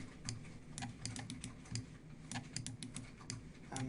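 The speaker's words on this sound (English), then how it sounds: "I'm left clicking and right clicking" Computer mouse clicked with left and right buttons while meshing a model in COMSOL 4.2 software; a quick series of small, sharp, close clicks at an uneven pace over a low steady hum, quiet and without talk.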